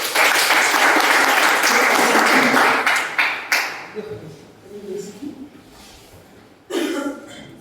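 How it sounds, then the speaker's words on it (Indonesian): An audience in a biology class applauds loudly for about three seconds, the clapping thinning into scattered claps, a cough and murmuring, with a short burst of noise near the end. "Silakan tepuk tangan."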